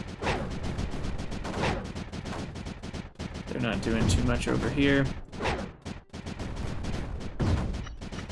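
Mortar fire in the strategy video game Creeper World 4 thumps and booms repeatedly under steady talking, with dense layered explosive bursts throughout.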